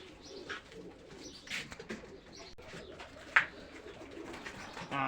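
Racing pigeon chicks in Kuwait coo softly in scattered short calls, with faint chirps over a quiet, rustling background.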